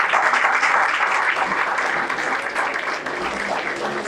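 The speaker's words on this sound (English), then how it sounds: "A great round of applause to them." An audience gives students a round of applause, dense sustained clapping that stays loud and steady before easing slightly toward the end.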